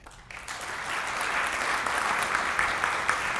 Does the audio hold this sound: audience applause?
yes